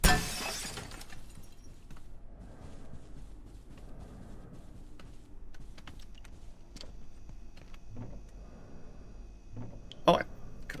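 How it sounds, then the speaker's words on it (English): Glass shatters loudly in the video game Abiotic Factor, with a crash at the start and another sharp break near the end, plus scattered tinkling debris and a person talking in between. "just want to make cool glass breaking noises."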